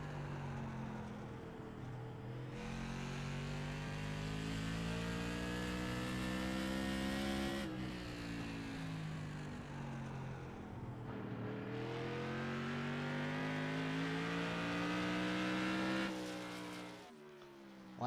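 Race car lapping the Stafford track, its engine droning loud and continuous with pitch sweeping up and down through gear changes and corners, heard alone for the whole lap.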